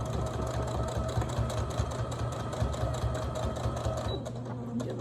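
A sewing machine stitches a St. Patrick's Day placemat, a loud steady low mechanical hum with rapid rhythmic needle pulsing that runs throughout.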